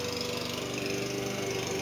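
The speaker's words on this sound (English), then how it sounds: "Yes, you hear that lawnmower." A lawn mower engine drones steadily nearby, a continuous buzzing hum with harmonic overtones running unbroken at moderate level throughout, no talking.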